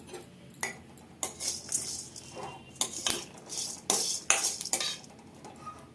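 A utensil stirs coriander seeds and cumin dry-roasting in a metal pan, making irregular close scraping and clinking strokes with a faint background hiss and no speech.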